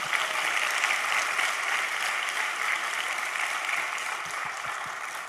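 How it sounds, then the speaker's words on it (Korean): A church congregation gives a round of thanksgiving applause, a dense, even wash of many hands clapping that holds steady and eases slightly toward the end. "감사와 찬양의 박수 한번 올려드리겠습니다."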